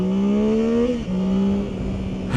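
A 2025 Yamaha Tracer 9 with the CP3 three-cylinder engine pulls hard off the line, its engine note rising steadily in pitch, dropping briefly at a shift around the midpoint, then climbing again, loud and close.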